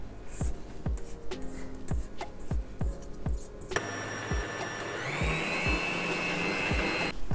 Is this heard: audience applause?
no